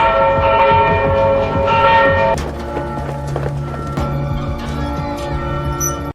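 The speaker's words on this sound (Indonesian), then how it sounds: "Kanselir yang mengetahui keberadaannya lewat pengawas menara langsung membunyikan lonceng tanda darurat" A church bell rings as an emergency alarm in a village in a film, loud, sustained tolling tones layered over a dense soundtrack, with a clatter like hooves or running feet.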